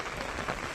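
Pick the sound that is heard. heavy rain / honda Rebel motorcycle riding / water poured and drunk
heavy rain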